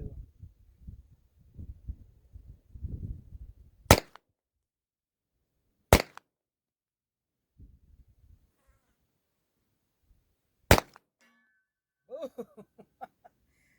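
Three sharp, loud gunshots at a 100-yard range with a Vortex Defender-CCW sight, spaced a few seconds apart, with quiet talking before them and faint clicks and rustle after.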